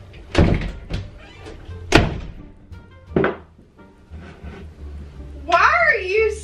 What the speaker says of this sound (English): Why are you slamming the door for literally no reason?